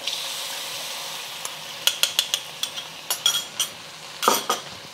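Sauce goes into beef luc lac frying in a hot pan, a soft steady sizzle broken by a run of sharp metal clinks and scrapes from a utensil against the pan, growing busier toward the end.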